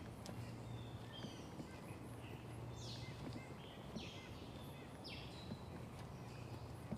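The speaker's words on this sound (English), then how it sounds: "Some birds singing along there, huh?" Birds sing outdoors in a springtime wooded area, several faint, short, high chirps and descending calls scattered over a steady low background hum, distant and soft with no talking.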